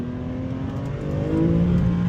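An Infiniti G37 engine revs up close, its pitch rising and growing louder toward the end, with no talking.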